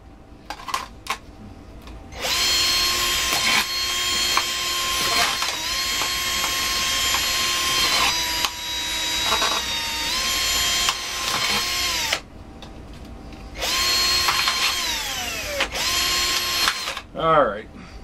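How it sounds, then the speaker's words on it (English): Whining electric drill runs in long bursts, drilling holes around the edge of a keezer, stopping and restarting several times, close and loud, with short quiet gaps and clicks between holes. "I drill holes around the edge."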